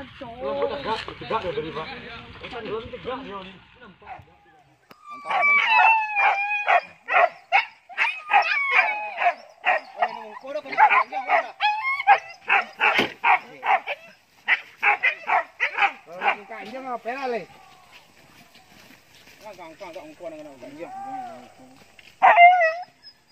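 Repeated dog barks in rapid bursts, several dogs yapping close by, with people talking before and between the barking and a final sharp yip.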